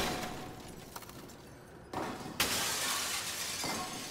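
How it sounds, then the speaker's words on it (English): Glass is smashed in the video game SOMA, a loud shattering crash that bursts out after a quieter stretch and leaves a bright, lingering spray of debris, with no talk. "We will just smash this glass."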